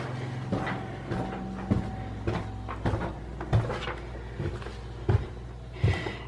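A kitchen cabinet door, freshly tightened after being loose, is opened and closed repeatedly, giving a steady series of close, sharp wooden knocks and clicks about every half second.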